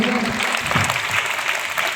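Schoolchildren clap together during a class assembly quiz after a correct answer, a brisk burst of dense applause with some voices mixed in.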